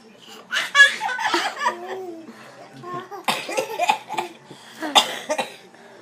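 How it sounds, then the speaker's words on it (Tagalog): Several short coughing bursts mixed with giggling and high childlike voices, fairly close, with bits of chatter between them. "puro ubo na narinig."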